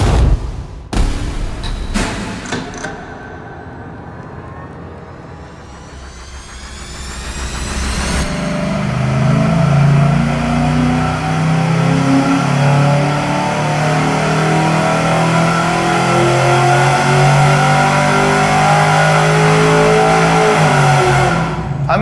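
A car engine on a dyno with an X-pipe exhaust, heard as a few sharp blips and revs, then a loud, sustained wide-open pull that climbs steadily in pitch and holds high to the end.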